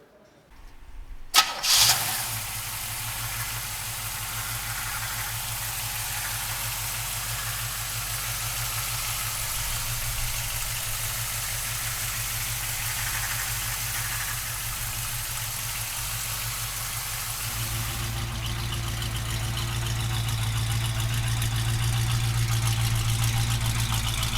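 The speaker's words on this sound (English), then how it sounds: "give the motor a fire up, let you listen to the motor" A 1969 Chevrolet Camaro convertible's engine cranks, catches and fires up, then settles into a steady rumbling idle that swells slightly louder toward the end.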